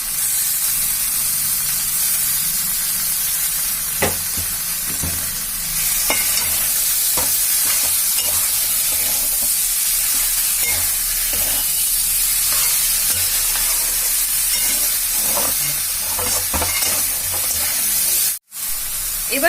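Chopped tomatoes stirred and frying in a pan for a rui fish curry with kankrol and potato, a steady close sizzle and hiss with repeated scraping stir strokes throughout, briefly cut off near the end.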